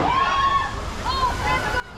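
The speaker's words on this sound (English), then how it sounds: "There are some really sneaky water cannons hidden in this area." Hidden water cannons spray and splash onto boats on the Kållerado rapids ride at Liseberg theme park, a close, loud sloshing rush that drops off abruptly near the end.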